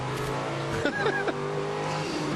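A touring race car at the 1993 Sandown 500 holds its speed on the gearbox on a cold, slippery track, its engine note droning and then sweeping through a few brief downshift blips in the middle before settling again.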